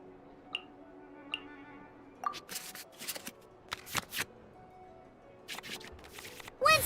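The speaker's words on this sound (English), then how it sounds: "we can select any number of cards in our hand to shuffle back into the draw pile" Cards shuffling back into a draw pile in the Genshin Impact card game, a few soft ticks followed by a run of quick, crisp riffling bursts, clean and fairly quiet with no voices.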